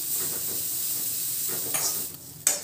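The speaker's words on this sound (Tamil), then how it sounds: "இதை சேர்த்து இந்த நெய்யிலே நல்லா வந்து வதக்கி விடுங்க." Grated coconut sautés in ghee in a small kadai. A steady frying hiss runs under a spatula stirring close by, with a couple of sharper scrapes toward the end.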